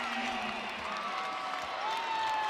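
Crowd noise rising at a UMBC at Maryland exhibition basketball game, a steady wash of cheering and murmuring from the arena that sits at even volume under an announcer's voice.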